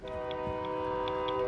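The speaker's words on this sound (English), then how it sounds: "I just got run over by a train!" A steady, droning train horn sounds continuously in the Call of Duty video game as a train runs over a player, with faint ticking clicks scattered through it.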